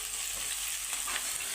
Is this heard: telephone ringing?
no